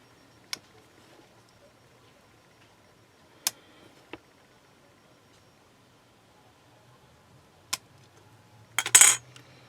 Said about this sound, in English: And what you can do is slice these.